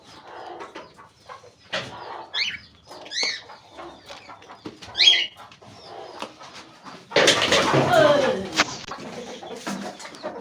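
Pigeons in a tree give soft, irregular coos and clucks close by, with short bird calls scattered through. A louder burst of rustling and flapping comes near the end.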